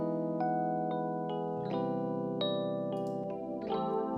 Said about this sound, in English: That is the Rhodes Classic Late 70s preset.